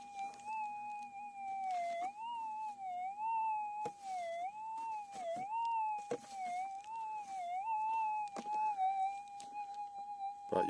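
Minelab GPX 6000 metal detector set to maximum manual sensitivity gives a wavering, unsteady threshold tone, a thin continuous hum that wobbles up and down with faint clicks scattered through, quiet and alone.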